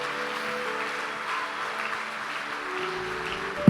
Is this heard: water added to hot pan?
no